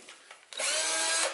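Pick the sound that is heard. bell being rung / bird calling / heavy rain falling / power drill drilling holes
power drill drilling holes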